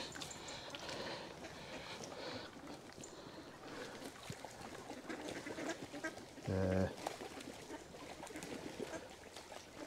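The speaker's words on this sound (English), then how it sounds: "See the old drakes are coming out on them now" Ducks at a pond quack intermittently against a busy outdoor background, with one loud, close quack standing out briefly near the end.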